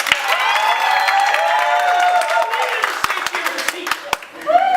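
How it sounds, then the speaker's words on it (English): Live audience at a comedy magic show applauding and cheering together as a performer takes a bow, a dense sustained wash of clapping with scattered whoops, fading slightly toward the end. "The audience will applaud wildly for no good reason."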